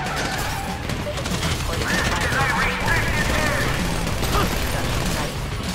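Rapid gunfire from a GTA shootout, bursts of shots loud and close, mixed with game noise and crashes under a dense, continuous action soundscape.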